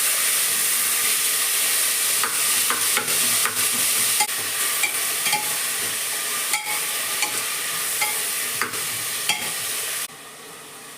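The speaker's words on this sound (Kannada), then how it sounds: "ನಾನು ಒಟ್ಟಿಗೆ ಟೊಮೆಟೊ ಇಟ್ಟು ಅದು ಫ್ರೈ ಮಾಡುವ" Tomatoes frying in a pan for chicken biryani, a steady close sizzle with intermittent clicks and scrapes of stirring, then a sudden drop to quieter hiss near the end.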